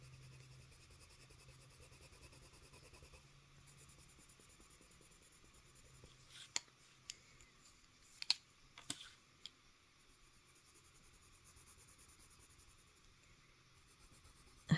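Colored pencils from a twelve-pencil set scratch and tap faintly on paper while someone colors. Quiet soft strokes are broken by a few sharp clicks near the middle.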